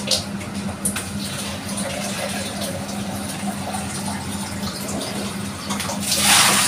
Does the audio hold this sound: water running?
yes